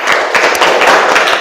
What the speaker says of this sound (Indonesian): Ya, silakan tepuk tangan.